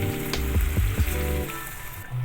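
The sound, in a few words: hot water added to frying chicken masala, sizzling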